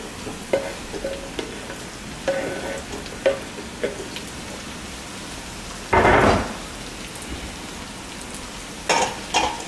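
Cut golden potatoes go into a pan and sizzle steadily, with scattered clinks and scrapes of stirring and one louder burst of frying partway through.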